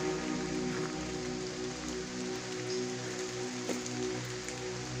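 Steady rain falling outdoors during a spiritual retreat, with many mosquitoes around: a continuous, even patter of drops on surfaces, moderately loud and unbroken, with no talking.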